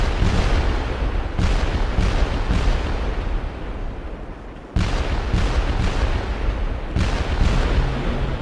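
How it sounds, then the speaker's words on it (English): Relentless heavy booms and rumbling blasts of WWII artillery shells and rockets on Iwo Jima roll on continuously, loud and dense, with a brief dip before the barrage surges back. "morning erupted into a firestorm of shells and rockets"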